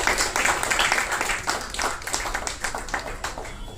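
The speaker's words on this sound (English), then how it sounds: "Clapping for both of them." Audience clapping for two people at a book release event for Step Out, a dense, steady patter of many hands filling the room throughout, fairly loud and close with no voices over it.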